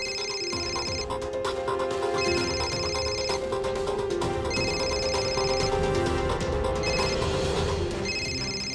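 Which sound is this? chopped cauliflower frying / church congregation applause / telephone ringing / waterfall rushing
telephone ringing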